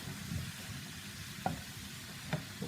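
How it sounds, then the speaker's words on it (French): Leeks sizzle softly in butter over high heat while being stirred, with a couple of brief utensil scrapes against the pan over a steady low frying hiss. "vous remuez bien pour que tous les poireaux s'imprègnent bien de beurre"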